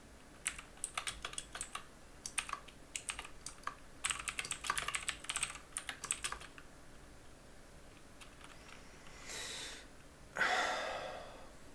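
Quick bursts of typing on a computer keyboard, close and crisp clicks in uneven runs for several seconds, then a pause with soft breathing and a sigh toward the end.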